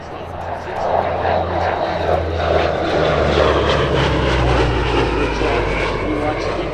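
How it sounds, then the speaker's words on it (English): A WWII P-38 Lightning fighter flies overhead, its propeller engines swelling into a loud, sustained drone that stays strong to the end, with voices talking underneath. "You watch the P-38 go overhead."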